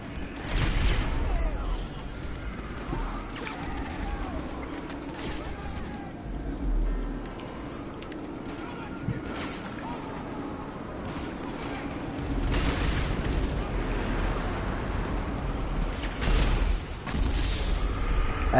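Gunfire and explosions from GTA V: scattered bursts of shots and booming blasts recur over a rumbling game soundscape, with a voice talking over the action at times.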